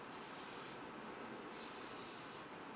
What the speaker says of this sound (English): So here's the pan we're going to make our cake in. I'm giving it a quick spray.